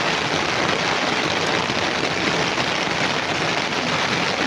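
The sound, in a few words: rain falling near a house in Bangalore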